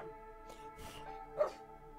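A small dog lets out a couple of short, sharp yips and barks nearby, quiet and brief, over a faint musical background.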